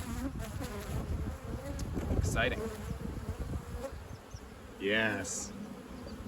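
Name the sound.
honey bees buzzing around an open hive frame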